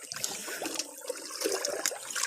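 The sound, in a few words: small river stream flowing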